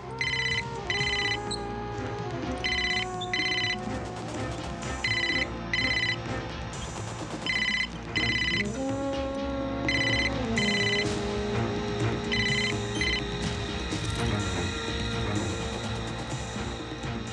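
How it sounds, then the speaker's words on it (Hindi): A telephone rings in a dramatic film scene, repeated electronic ring bursts in a steady on-off pattern over a background music score, fairly quiet and with no voices. "फोन।"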